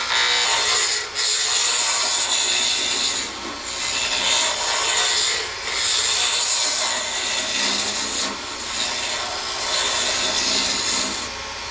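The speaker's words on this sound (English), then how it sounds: "turn on my lathe, turn up the speed, use a roughing gouge to start." A wood lathe spins a 3D infused blank at high speed while a roughing gouge cuts it, giving a loud, continuous rasping scrape that dips briefly as the tool shifts and carries on without talk.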